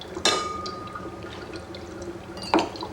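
Small pieces dropped into a laboratory flask set off violent bubbling, with two sharp splashy clinks about two seconds apart over a steady fizzing, dripping liquid sound.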